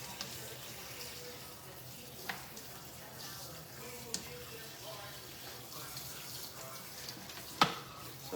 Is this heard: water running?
yes